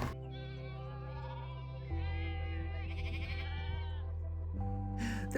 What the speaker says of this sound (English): Don't these sheep sound absolutely wonderful?